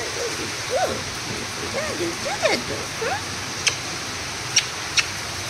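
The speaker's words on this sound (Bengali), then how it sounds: "বাবা বৃষ্টি হচ্ছে, বাবা বৃষ্টি হচ্ছে" Steady rain hisses outside a home as someone speaks over it, with a few sharp ticks near the end.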